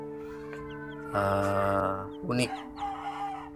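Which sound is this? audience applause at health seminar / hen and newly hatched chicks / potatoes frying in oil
hen and newly hatched chicks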